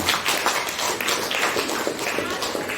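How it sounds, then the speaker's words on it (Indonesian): A classroom of students applauds during a practice teaching lesson, a dense, steady wash of many hands clapping together for about three seconds, fairly close and filling the room. "tepuk tangan"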